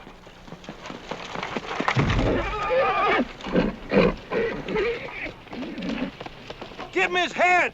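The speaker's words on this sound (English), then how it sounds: "you can't scare a horse like that, not my horse." A frightened horse whinnies in a sharp, high, quavering burst near the end, after a commotion of hooves, rustling and voices on a farm near Palo Alto.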